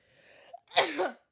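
A single person sneezes once, a short intake of breath followed by a sharp, loud burst, heard close and alone in a quiet room.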